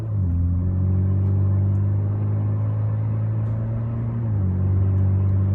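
A 2013 Ford Fusion Titanium accelerates normally, its engine a loud, steady low rumble that climbs smoothly, then drops briefly as it shifts gear and carries on, with no talking over it.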